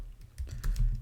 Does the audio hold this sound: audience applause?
no